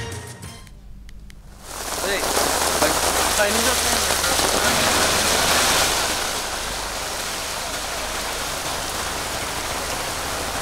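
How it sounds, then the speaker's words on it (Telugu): Heavy rain falling around Uppal in Hyderabad, a dense loud hiss of drops on surfaces that swells after a brief quiet start and holds steady, easing slightly toward the end, with a voice speaking over it. "ఉప్పల్ పరిసర ప్రాంతాల్లో భారీ వర్షం పడుతోంది"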